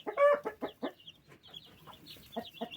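Young chicks on a poultry farm peep and cluck in short, close bursts, a busy irregular series of high chirps with brief pauses, fairly faint overall and without talk.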